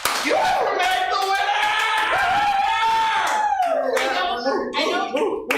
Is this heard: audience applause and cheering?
yes